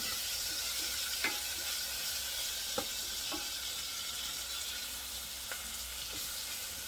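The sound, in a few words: tomatoes added to a hot pan, sizzling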